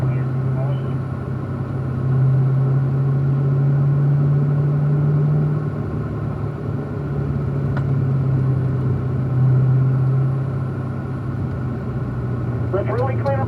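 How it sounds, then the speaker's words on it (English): A race car circles a track at Pahrump, Nevada, its engine a steady, droning hum with rising and falling pitch, heard from inside the car, with someone talking over it in a radio-like tone. "All right, so Richard, get that car straight"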